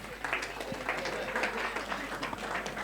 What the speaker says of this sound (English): All right, give me a round of applause.